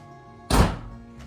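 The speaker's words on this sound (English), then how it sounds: "now when we open the door, we can actually open the door and the door will stay open" A car door swings open with a single loud thunk, settling with a fainter knock a moment later, in a garage workshop where the car sits raised up on a lift.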